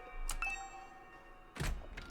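A doorbell chime in the video game The Hundred Line gives a quick bright ding-dong near the start. A soft thunk follows later against a quiet background with no speech.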